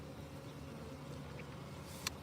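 Bees at an open hive during a nighttime honey harvest give off a faint, continuous low buzzing hum, with a brief sharp click near the end.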